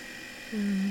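A home sewing machine's motor kicks in halfway through, rising into a steady, close, low whirring hum after a brief quieter stretch of room noise.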